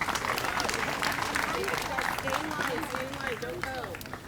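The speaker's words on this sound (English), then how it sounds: "let's have a huge round of applause for Linda Williams, who put all this together today." A crowd at a town Independence Day celebration in Somerset gives Linda Williams a round of applause: loud, dense outdoor clapping mixed with cheering and voices, gradually thinning toward the end.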